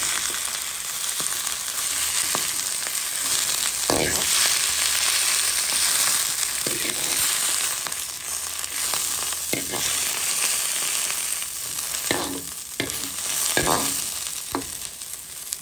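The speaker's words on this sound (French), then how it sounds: "Vous voyez, je mélange comme ça." Vegetables sizzle steadily in a hot pan for a sauté with shrimp, while a utensil scrapes and clacks against the metal in irregular bursts as they are stirred. The frying is close and continuous, with no talking.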